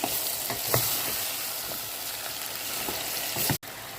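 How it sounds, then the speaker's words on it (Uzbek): Chunks of potato go into a pan of frying onions and oil for chicken dimlama, sizzling steadily at close range with a few spoon scrapes while stirring and no talk. "Endi kartoshka solamiz."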